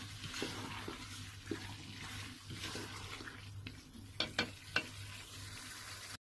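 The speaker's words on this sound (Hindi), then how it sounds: "1 टेबलस्पून यहाँ पे डालेंगे और इसको अच्छी तरह से मिक्स करेंगे" Ginger paste being stirred into a potato and cauliflower masala in a pan, a steady soft sizzle with scraping strokes and a few sharper clinks of the spoon near the end.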